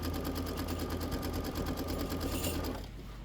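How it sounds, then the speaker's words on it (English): A sewing machine stitching a quilt block, running fast and continuous with an even rapid needle rhythm, loud and close, then slowing and dropping off near the end. "I don't want your finger going near where the needle is stitching"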